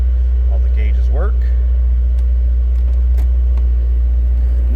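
A 1998 Chevrolet Corvette's 350 V8 idles with a deep, steady low rumble close by under the hood, with a few faint clinks over the continuous drone.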